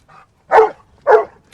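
A six-year-old Labrador retriever disaster dog barks twice in sharp, close bursts while searching rubble, with a faint yelp just before.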